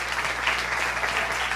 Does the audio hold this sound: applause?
yes